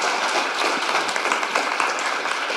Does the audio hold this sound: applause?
yes